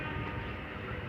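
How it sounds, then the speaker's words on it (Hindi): A passenger train from Rewari arrives at Nizampur railway station, a loud, continuous low rumble and roar filling the short moment with no voices. "ये रेवाड़ी से ट्रेन आई है"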